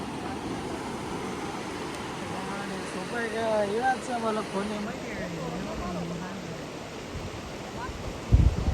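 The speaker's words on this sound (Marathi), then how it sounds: "अजून सुद्धा पुलाला पाणी चालू आहे" Floodwater pours over a bridge into sugarcane fields with a steady, broad rushing roar, while someone talks over the noise partway through.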